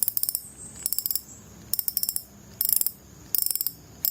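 Go Strike Maverick fishing reel clicker ratcheting in crisp, rapid bursts of clicks, four or five separate runs with short pauses between, close and loud with no voices.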